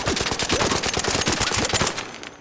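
Tempest gun in Arc Raiders fires a rapid automatic burst, dense evenly spaced loud shots for about two seconds before cutting off into a short fading tail.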